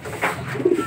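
Pigeons at a loft give a close, loud coo in one brief, rounded phrase.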